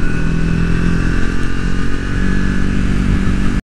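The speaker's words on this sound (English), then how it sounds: "let the engine braking slow the bike down whenever you're coming into the turn" A 2024 Triumph Speed 400 motorcycle engine braking while riding into a turn: a steady, loud, close engine drone with wind rush that cuts off abruptly at the end.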